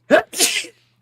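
A single sharp sneeze bursts out close and loud, a short intake followed by a stronger explosive release, then silence.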